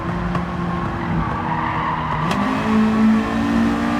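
Race car tires squeal and skid under hard, late braking in the video game Gran Turismo 7, a sustained screech over a droning engine that shifts pitch as the car slows.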